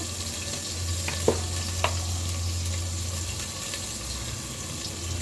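Spices fry in oil for a bottle gourd curry, a steady close sizzle with a couple of sharp utensil clicks and stirring scrapes early on, and no talk.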